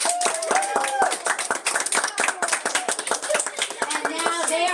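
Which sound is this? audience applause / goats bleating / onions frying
audience applause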